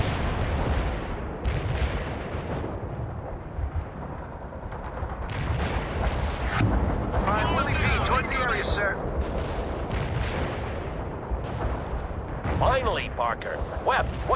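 World in Conflict artillery barrage firing at coordinates: repeated heavy booms and gunfire bursts thunder through the battle over several seconds, with voices and radio chatter talking above the explosions.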